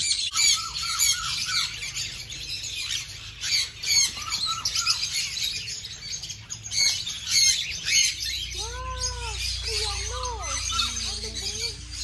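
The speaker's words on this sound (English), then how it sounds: "Here we have community of birds living together" A flock of birds in an aviary at a pet sanctuary squawks and chirps continuously, with loud harsh calls up close and bursts of shrill whistling squeals near the end.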